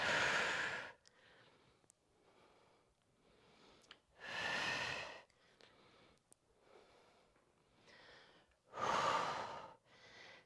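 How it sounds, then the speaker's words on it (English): Long, strong breaths out come three times during a prenatal full-body workout, each a loud, airy rush with softer breathing and sniffs in the quiet gaps between. "Big exhale as you come up."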